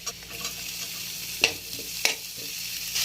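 Garlic, ginger and onion sizzle in a pan: a soft continuous frying hiss punctuated by a couple of sharp spatula clacks and stirring scrapes, close up with no talking.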